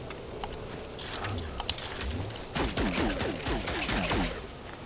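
Rapid bursts of spaceship weapon fire in No Man's Sky crackle and zap in quick succession, with sweeping laser-like chirps over a busy, rumbling background.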